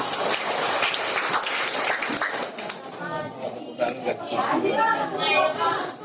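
Applause from a crowd, with steady clapping mixed with chatter and a voice speaking over it.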